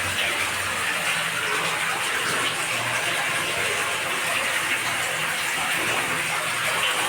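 Water gushes steadily from a pump on a farm well bore, a loud continuous rushing splash that stays even throughout with no voices over it.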